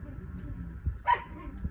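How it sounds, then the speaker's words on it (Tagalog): A single sharp dog bark rings out near the middle, with a few softer yips and faint background murmur around it. "pinapakain ko sa mga aso ko"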